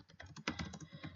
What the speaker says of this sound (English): There's a little bit of delay whilst I'm typing.